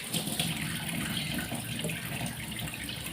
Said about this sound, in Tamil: சும்மா தண்ணி ஊற்றி விட்டாலே போயிடும்.